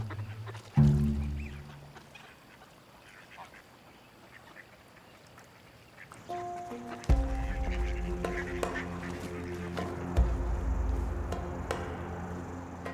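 A wild duck in an Arabian urban wetland quacks in several separate bursts against outdoor background noise, after evading a harrier.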